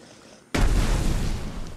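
A grenade explosion in the survival game Mist Survival bursts suddenly out of quiet background, a loud deep boom that rumbles and fades slowly.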